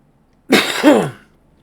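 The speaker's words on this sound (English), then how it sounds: "Sorry for the cough." A single sharp human cough, loud and close, with a short harsh throat-clearing quality, set apart by quiet before and after.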